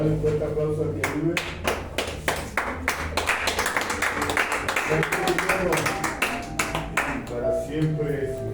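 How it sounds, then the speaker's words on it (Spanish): A church congregation clapping in praise during a Spanish-language service, loud rhythmic hand claps in a steady beat with music and voices running underneath throughout. "Vamos a darle un fuerte aplauso al que vive."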